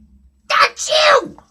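A voice imitates a single loud sneeze, a sharp intake followed by a wavering 'achoo', during a reading of a children's picture book about pigs.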